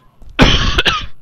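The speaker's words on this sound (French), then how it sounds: "excusez-moi, j'ai une petite toux" A man gives a single short, close cough with a slight throat-clearing edge, heard alone with no talk during it.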